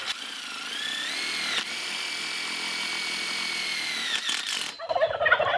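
A power driver sends a self-tapping screw through a greenhouse side post into a bow: a steady, sustained close whine for about four seconds, with a brief dip partway through, then it stops and clatter follows.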